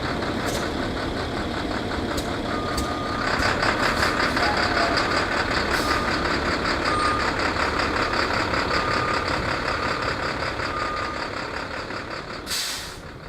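Plow truck backing away from its detached plow, a steady reversing beeper pulsing over an idling diesel engine, with hissing air brake bursts near the start and end.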